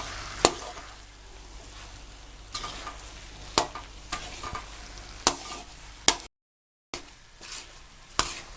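Milk halwa cooks in a kadhai with a steady low sizzle, broken by sharp periodic taps and scrapes as a spoon works the thickening mixture, and one brief gap of silence.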